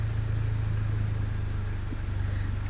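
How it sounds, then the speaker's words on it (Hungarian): An Alfa Romeo idles just after starting, a low, steady exhaust burble with a rhythmic pulse, moderately quiet and close. "Azért a kipufogónak van egy hangja, kellemes igen."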